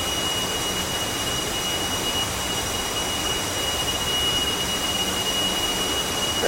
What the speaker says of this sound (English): both engines have safely started